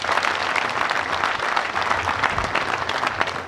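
Steady, dense applause from an audience at a bank's 25th anniversary celebration, a continuous clapping wash at even loudness throughout with no pauses.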